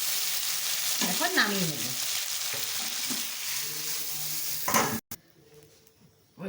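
Tomatoes and potatoes frying in oil in a wok, a steady close sizzle with stir scrapes, then a clatter as the pan is handled; a voice speaks briefly at the end.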